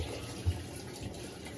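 A Panasonic 14 kg cyclone-system washing machine (NA-F140B6) fills with water for the rinse, a soft, steady rush of running water with one low thump, faint and close.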